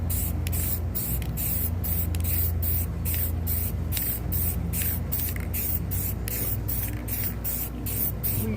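Spray paint hisses onto a sign in a long run of short bursts, each rapid puff separated by brief gaps, steady and close with no talking.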